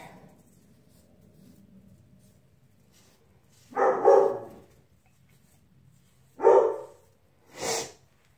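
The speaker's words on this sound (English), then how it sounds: "my dogs are barking" Household dogs give a few separate barks with long gaps, three or four sharp moderately loud woofs over a quiet room with faint breathing-like noise, and nobody talking.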